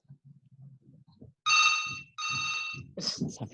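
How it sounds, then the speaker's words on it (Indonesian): A telephone rings twice in loud electronic bursts, close by, after quiet murmured speech, and a voice answers right after. "Sampai ada telepon."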